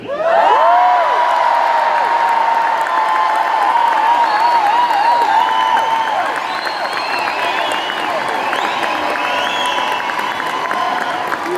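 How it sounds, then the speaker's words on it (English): Concert audience at a tour show in Dublin, a loud, dense crowd roar with cheering, whoops and clapping running continuously, easing slightly toward the end. "And you don't even know why you're clapping."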